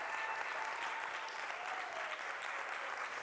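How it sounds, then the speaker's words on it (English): Congregation at a Sunday church service breaks into sustained applause, a thick, even wash of clapping from many people that holds steady from start to finish. "Oh no, let's give her applause."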